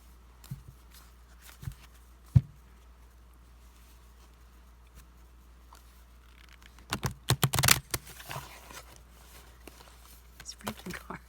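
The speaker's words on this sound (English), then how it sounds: "These cards, they do not want to shuffle" Sporadic soft clicks and papery flicks, then a quick burst of riffling tarot cards being shuffled, close by with quiet pauses between.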